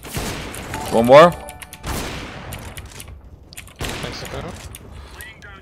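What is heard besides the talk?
gunfire shots in a Counter-Strike video game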